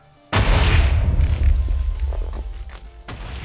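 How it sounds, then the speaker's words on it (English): A cannon in Minecraft fires with one sudden loud boom that rolls into a rumbling, crackling decay, followed by a second softer thump near the end. "So let's launch the cannon. Is it going to fire?"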